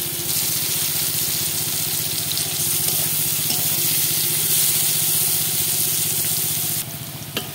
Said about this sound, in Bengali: আমি আগে ভেজে নিচ্ছি বেগুন আর পটল